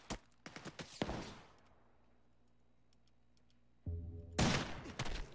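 Gunfire in the video game Ring of Elysium: a rapid volley of loud, close shots opens, then a quiet lull, and a harsh burst of fire erupts near the end over a low mechanical hum.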